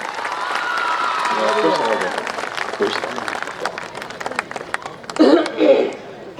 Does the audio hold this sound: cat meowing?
no